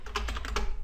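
Keys tap on a computer keyboard while a Windows XP folder is renamed, several quick soft clicks in an uneven burst, close and fairly quiet.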